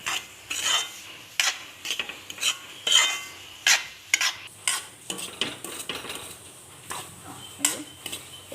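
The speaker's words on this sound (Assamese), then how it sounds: "আকৌ আগৰ নিচিনাকৈ লৰাবলৈ ষ্টাৰ্ট কৰি দিব" Semolina (suji) with raisins is stirred in a pan with a spoon in rapid, repeated scraping strokes of uneven rhythm, close by and fairly clear.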